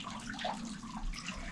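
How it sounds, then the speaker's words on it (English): Natural spring water runs off a stone wall in Sintra, Portugal, in a soft continuous trickle and splash, faint and close, with no voices. "this wall is a runoff from the spring, so it's natural spring water here"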